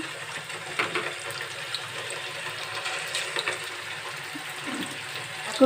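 Kofta balls frying in hot oil, a steady close sizzle with occasional crackles and pops over several seconds, no voices.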